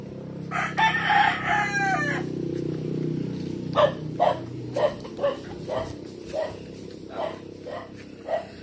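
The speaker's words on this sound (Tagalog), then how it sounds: "May mga manok pala dito eh." A rooster crows nearby, followed by a string of sharp dog barks at irregular intervals over a low steady hum.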